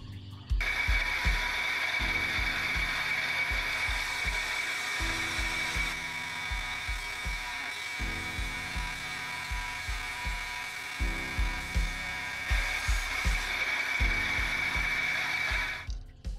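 Jade from Kanayamadani being cut and ground on a lapidary machine: a steady high whining motor hum with rhythmic chattering and grinding pulses as the stone is worked, continuous and close throughout, with no talking.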